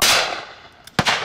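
A shotgun fired at pheasants or partridges on a driven game shoot, a single sharp outdoor blast with a long fading tail, followed by a fainter second report.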